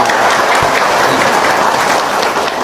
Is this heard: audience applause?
yes